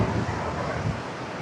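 Broadband surf noise from sea waves at Bheemili beach, a steady rushing wash with wind buffeting the microphone, moderately loud and continuous throughout, with no voices.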